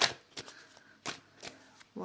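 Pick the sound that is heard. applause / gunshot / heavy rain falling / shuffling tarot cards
shuffling tarot cards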